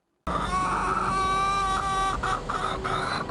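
Chickens cluck steadily and close by at a chicken yoga workout class used as animal therapy, with overlapping hen calls and no talking.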